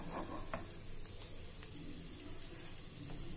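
Mustard and other tempering seeds sizzle in hot oil in a pan for dal, producing a soft, steady hiss with a few faint pops. The sound is quiet, close and continuous, with no talk.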